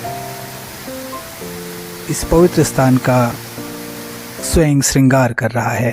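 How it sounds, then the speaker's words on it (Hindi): A waterfall flows beside a natural cave shrine near Kausani, producing a steady, full rush of water throughout while someone speaks over it. "सम्मुख ही जो झरना बह रहा है इस स्थान को बहुत ही मनोरम बना रहा है।"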